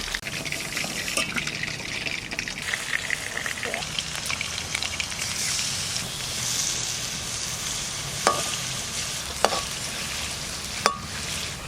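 A large Odisha sea fish, blue Bokthuto, frying in hot oil over a low flame, a loud continuous bubbling sizzle with a few sharp spatters and utensil taps near the end.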